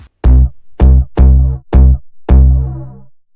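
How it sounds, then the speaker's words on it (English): A Serum synth bass preset from a sample kit plays a short loop: five punchy, heavy low notes in a steady rhythm, the last held longer and fading out, loud and alone. "I made this loop using another really cool bass preset from the kit"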